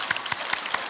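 A church congregation claps together at a mothers' prayer gathering, giving a brief burst of steady applause with a few louder hand strikes standing out.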